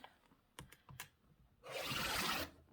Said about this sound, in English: You just do a good clean cut with your rotary cutter slightly angled out